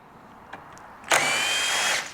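A power driver spins out a T40 Torx muffler fastener on a Piaggio BV350 scooter, a short tap followed by a steady high whir lasting about a second, close and loud.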